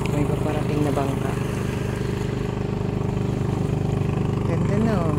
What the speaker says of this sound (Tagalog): May paparating na bangka.